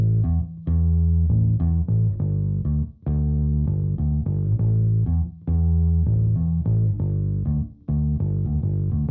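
Recorded bass guitar line for an Afrobeats production, playing a steady, continuous pattern with short gaps between phrases, loud and upfront with no talking.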